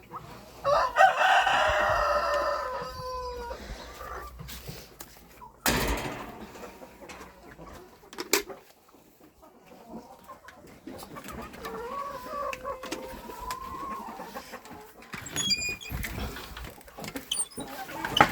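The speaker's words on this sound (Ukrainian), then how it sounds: "Так, кури! Дивися! Вони вже тут всі." Chickens cluck and squawk nearby, with a rooster's crow rising early, amid scattered rustling and occasional human talk.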